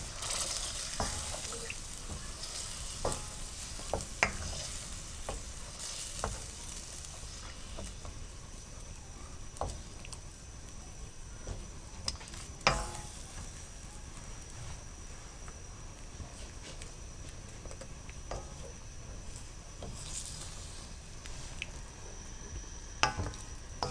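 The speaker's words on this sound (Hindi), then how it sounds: "अब आप अच्छी तरह से मिक्स कर लें और इसको दरमियानी आंच पे पकने दें।" Chicken karahi sizzles steadily in a hot pan over medium heat while a utensil stirs and scrapes now and then, sharp clinks standing out over the constant frying hiss.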